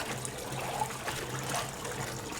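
Water is poured into a container meant to hold a largemouth bass skin in borax solution, a steady close splashing trickle that runs unbroken throughout.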